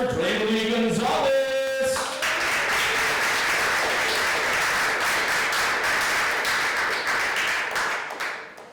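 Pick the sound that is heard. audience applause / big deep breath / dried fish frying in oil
audience applause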